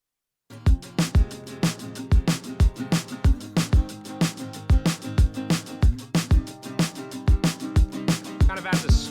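Acoustic guitar with heavy delay, swirling in a full rock-pop song mix, with loud, steady drum hits driving the rhythm throughout.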